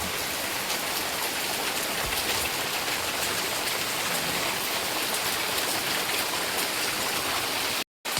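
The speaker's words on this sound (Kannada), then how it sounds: "ಈಗ ಕೂಡ ನೋಡಿ ಜೋರಾಗಿ ಮಳೆ ಬರ್ತಾ ಇದೆ" Heavy rain pours down in a dense, steady hiss of drops striking surfaces, loud and unbroken, with only a brief cut near the end.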